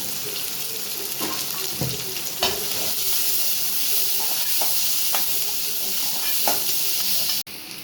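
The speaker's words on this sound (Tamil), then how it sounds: "இப்போ வெங்காயம் போட்டுக்கோங்க பச்சை மிளகா ரெண்டு மட்டும் போட்டுக்கிறேன்" Chopped onions and two green chilies fry in a pan for an egg dish, giving a continuous, close sizzle. Scattered stirring scrapes and clinks sound over it, and a sharp click comes near the end.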